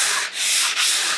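Sandpaper rubs back and forth by hand over a wooden furniture piece during upcycling, three quick, loud, close strokes with brief dips between them.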